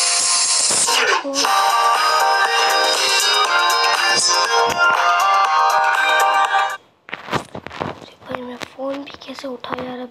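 A phone ringtone announcing an incoming group voice call plays loud and melodic for about seven seconds, then cuts off, followed by scattered short sounds.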